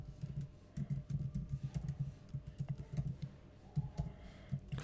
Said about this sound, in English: Let's just type here.